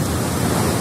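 Surf rolls in at Kuta Beach in Bali as a steady, close wash of breaking waves with wind rushing over it, dense and unbroken throughout with no voices.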